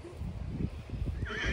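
A horse at the Calgary Stampede parade in Canada whinnies at a moderate distance, its rising neigh heard briefly over background rumble and faint hoof sounds.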